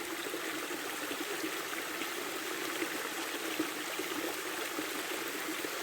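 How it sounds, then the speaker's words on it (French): Flowing water streams and trickles steadily in an even, close wash of sound with no breaks, no voices and no distinct separate drops standing out. "Est-ce que vous voyez toutes ces gouttes d'eau"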